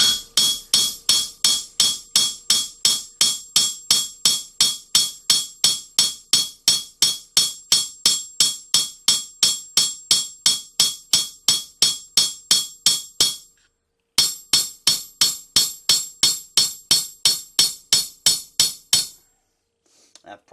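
Rapid, evenly spaced metallic hammer strikes, loud and ringing, a ball peen hammer peening a knife guard, with a brief pause before the tapping resumes.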